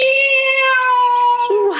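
A cat meows in one long, clear, sustained cry that bends lower near the end, loud and close, heard as a sound effect in a 1974 CBS mystery radio drama.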